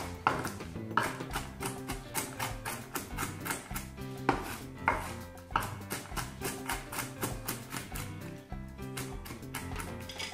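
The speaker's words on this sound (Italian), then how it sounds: "Tritiamo le noci grossolanamente." Walnuts are chopped coarsely with a knife on a board in a home kitchen, giving a rapid, steady run of crisp close taps and thuds that continues for several seconds without talk.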